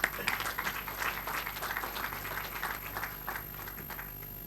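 Applause at the opening session of a defence conference and expo, steady clapping from an audience after a speaker is introduced, moderately quiet and even throughout with a faint murmur underneath.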